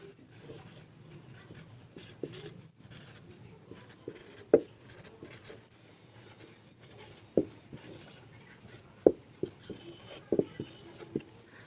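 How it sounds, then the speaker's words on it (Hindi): A pen writing Urdu letters on paper, soft scratchy strokes close by with occasional sharper taps as the tip meets the page, irregular in rhythm and fairly quiet. "आपकी आसानी के लिए मैं लिख कर बता देता हूँ"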